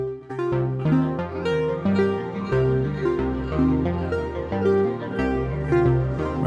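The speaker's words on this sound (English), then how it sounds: "so now we will get an 8 over 5 polyrhythm" Synth sequence in Bitwig Grid playing an 8 over 5 polyrhythm, two interlocking voices of plucky tonal notes with repeating staggered attacks, clear and alone.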